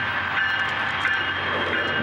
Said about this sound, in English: it is quite literally a video of a train being derailed.